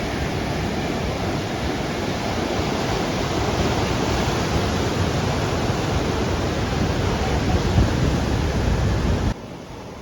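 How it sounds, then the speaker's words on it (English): Arabian Sea waves crashing against rugged black rocks on a rocky coastline, a loud, continuous roaring wash of surf that fills the whole stretch and drops off abruptly at the end. "the waves rolling from the Arabian Sea, they gather strength before crashing against these rugged black rocks with a thunderous roar"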